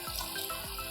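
Water splashes into masala frying in a pan, a short close pour and sizzle that fill the moment, with no talking.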